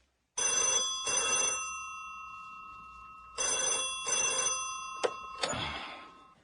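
An old telephone bell rings in a dramatized 1951 scene set at a Korean bank office. There are two pairs of loud, brassy double rings, then a final ring that is cut short, heard alone with no talk.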